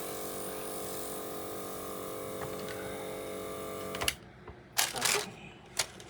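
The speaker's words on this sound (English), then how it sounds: "I know some people wait till their icing is dry before airbrushing" An airbrush sprays color onto wet icing in a steady, close hiss lasting about four seconds, then stops, leaving a few short handling bumps and clicks.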